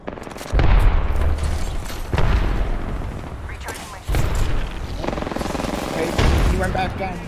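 Gunfire in the video game Apex Legends comes as four heavy, booming shots spaced about two seconds apart, each followed by a rumbling decay, with a player's voice talking over the shots.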